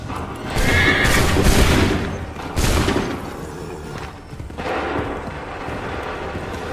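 A loud, close musket volley from a line of soldiers in Assassin's Creed 3 Remastered: a dense crackling blast that rolls into booming echoes, then a second burst of fire before the rumble fades.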